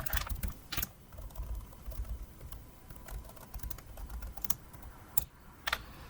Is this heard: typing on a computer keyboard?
yes